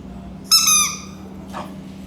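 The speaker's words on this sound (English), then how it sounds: "this is a little toy, and it squeaks" Small squeaky dog toy squeezed once, giving a short bright squeak of about half a second, close and clear, followed by a faint softer squeak a moment later over quiet room hum.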